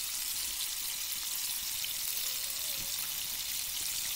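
A pepper jack bacon burger with thick bacon cooks on a grill, giving off a steady, soft sizzle and crackle that holds evenly throughout with no talking.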